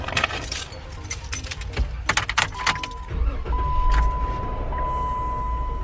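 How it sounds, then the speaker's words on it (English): Keys jangle loudly up close, then a car is started and settles into a steady running hum with a faint warning chime repeating. "Oh, I gotta start the car."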